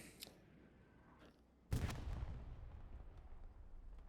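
A tank shell lands in a World War II tank video game: one sudden heavy boom lands partway through, then a long rumbling tail of debris and reverberation, following quieter distant thuds.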